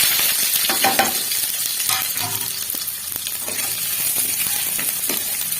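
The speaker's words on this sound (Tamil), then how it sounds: "வெங்காயம் நல்லா பொன்னிறமாக வதங்குற அளவுக்கு நல்லா வதக்கிக்கலாம்." Onion sizzling with popped mustard seeds in a pan, a steady frying hiss with spatula scrapes and metallic clinks as it is stirred, close and fairly loud.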